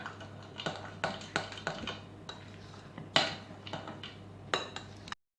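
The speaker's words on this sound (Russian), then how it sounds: "Хорошенько перемешиваем." A utensil clinks and scrapes against a bowl while a dough mixture with vegetable oil is stirred for pirozhki, in a series of irregular taps and knocks heard up close, with no talking.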